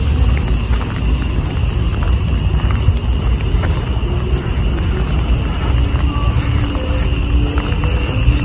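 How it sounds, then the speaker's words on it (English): Crickets chirp at night near Burnham Park in Baguio, a thin, steady high trilling over a constant low rumble of traffic and outdoor ambience. "Crickets pala yan, hindi ibon."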